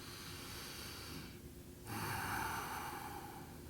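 Forceful breathing during an elbow plank in a yoga-with-weights warm-up: a steady rush of breath, a short pause, then a stronger, louder exhale near and alone, with no talking.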